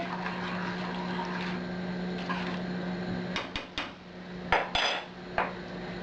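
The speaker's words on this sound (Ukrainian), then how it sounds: "Помішаємо гарно." Metal utensil scraping and knocking against a pot of wheat porridge in a few short clinks over a steady hum of a simmering stove.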